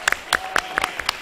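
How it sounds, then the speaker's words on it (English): Brief scattered clapping from a small crowd at an outdoor community event in West Palm Beach, Florida, a handful of sharp, separate claps at an uneven pace, fairly faint. "A round of applause."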